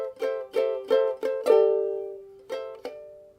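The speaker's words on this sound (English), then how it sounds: "So that part sounds like this." Fingerstyle ukulele playing part of a song, with a handful of plucked chords in an uneven rhythm, one left ringing and decaying, close and clean with no talking.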